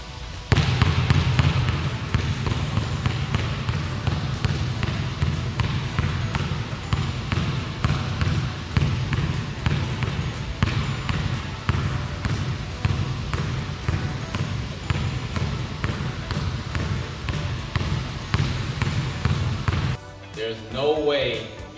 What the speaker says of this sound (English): So do some stationary dribbling for about 5 minutes.